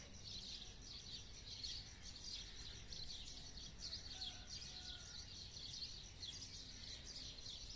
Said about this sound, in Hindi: परिंदों की चहचहाने की आवाज़ें बहुत प्यारी आ रही है